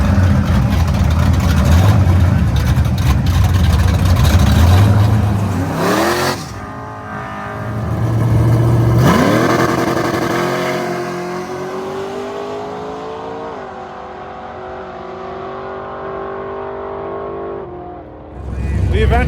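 A loud 370 LS-engine race car running on methanol roars and revs close by, rising and falling in pitch, with a brief lull midway before the throttle climbs again.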